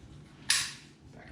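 A single faint, sharp click from a dry-fire trigger pull on a SIG MCX rifle fitted with a Mantis BlackbeardX trainer, heard close and alone above a quiet room tone.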